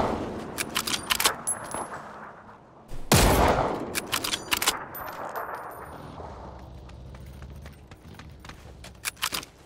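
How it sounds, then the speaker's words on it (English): Gunfire in the battle game PUBG, a series of sharp shots and rattling bursts, one heavy loud blast near the middle, then scattered softer pops and clatter, with no talking. "He's trying to shoot at me"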